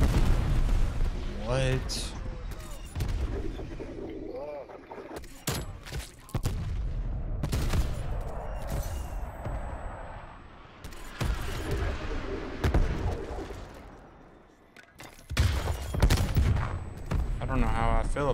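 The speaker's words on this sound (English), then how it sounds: "They get a strafe run?" In Call of Duty Cold War, a strafe run unleashes bursts of rapid gunfire and heavy explosions in loud clustered waves with short lulls, while a player talks briefly over the barrage.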